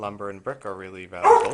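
A pet dog barks and yips loudly close by, several short tonal barks ending in a whine, while someone talks over them indoors.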